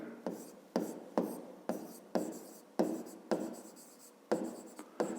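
Handwriting on a fifth-grade math exercise: about ten short, scratchy pen strokes in an uneven rhythm, close and fairly loud, with no one talking.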